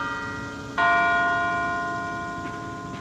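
A large campus bell at Johns Hopkins University, near Krieger Hall, strikes once loudly, then hums and rings out in a long, slowly fading tone, with a fainter second strike near the end.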